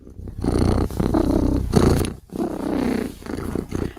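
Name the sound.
voice imitating a cat purring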